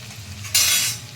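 Green beans tipped into a hot frying pan with oil, a quiet background that suddenly breaks into a loud burst of sizzling halfway through, then slowly eases off.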